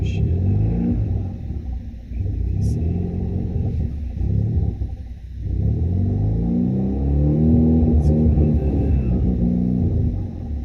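A turbocharged four-cylinder Camaro engine running on E85 with a large cam, a deep, loud, steady idle rumble close by that wavers briefly and then settles back, with no voices.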